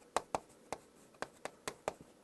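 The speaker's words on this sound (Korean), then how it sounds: "글을 써볼게요" Chalk or marker strokes on a board during a Korean university math lecture on linear independence, heard as eight short sharp taps and scrapes spaced irregularly, close and fairly faint, with no talking.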